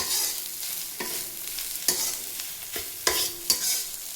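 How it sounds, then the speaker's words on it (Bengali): Grated coconut and spices stir-fried in a pan for a stuffed ash gourd dish, with a steady hiss and sharp scraping strokes of a spatula at irregular intervals, close and fairly quiet. "মশলা দিয়ে ভালো করে কষাবেন।"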